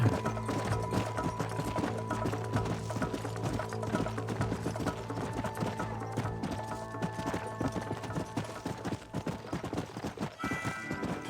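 A horse in the video game Red Dead Redemption gallops with rapid, steady clip-clop hoofbeats that run throughout, while sustained tones of the game's music sit underneath.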